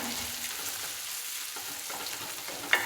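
Crushed shallots sizzle in well-heated oil, a steady close hiss of frying with faint stirring and a sharp clink near the end, no voices.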